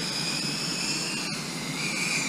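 Drone fitted with 8-bladed 76mm HQ propellers flies with a steady, loud, high-pitched motor whine and a constant whirring drone throughout, with no talking.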